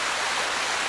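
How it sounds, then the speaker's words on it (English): Large High Sierras-style landscape waterfall built on a hillside, heard as a loud, dense, unbroken rush of falling water close by. "build me a High Sierras waterfall"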